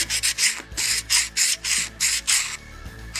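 Rhythmic back-and-forth scraping as the edges of hard plastic parts from a 1/32 Arii '63 Porsche Turbo model kit are deburred, about ten close, even strokes.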